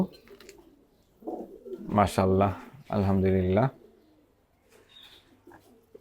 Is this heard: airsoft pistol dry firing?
no